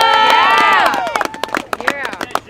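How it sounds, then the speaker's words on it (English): A crowd at an outdoor teachers' freedom-of-choice rally in Staten Island, New York, whoops and cheers loudly, then scattered claps and shouts continue as the noise gradually thins. "how about another round of applause for Jake?"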